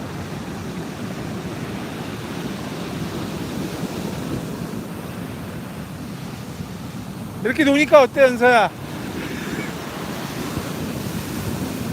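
Steady broadband rush of ocean surf on an empty beach, continuous and fairly close, with a brief burst of talking partway through.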